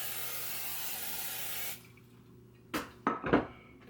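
Cooking spray hisses steadily onto a skillet for bread dough, then stops, followed by a few light metallic clinks and knocks of the pan.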